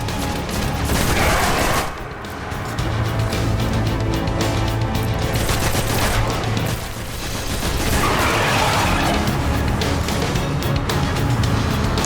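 Sustained gunfire in Destiny: The Taken King, with repeated loud shots and rumbling booms rolling on for several seconds amid dense game noise.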